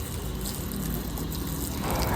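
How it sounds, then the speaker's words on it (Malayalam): Water from a hose pipe sprays over a vehicle during washing, a steady broadband rush of flow and splatter that carries on without a break and swells slightly louder toward the end. "അങ്ങനെ ആക്കി നമ്മളിങ്ങനെ വണ്ടി നല്ല വൃത്തിയായിട്ട് കഴുകണം"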